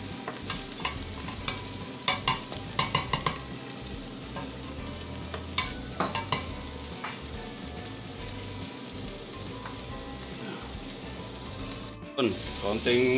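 Onion and garlic fry in oil for Ilocano pinakbet, a close steady sizzle broken by clattering stirs and scrapes of a spoon against the pan, with a louder burst of hissing near the end.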